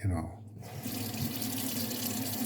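Water runs steadily from a tap into a protein shaker bottle, a continuous close hiss and splash after a brief bump at the start.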